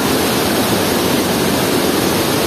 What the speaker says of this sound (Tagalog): yung bato tumutulo, may mga tubig